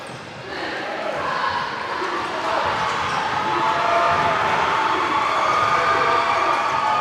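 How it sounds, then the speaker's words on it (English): A loud, swelling crowd roars in a gym during the final minute of a girls' high school quarterfinal basketball playoff between Buckeye and GW Carver, the cheering building steadily. "the Buckeye crowd getting loud"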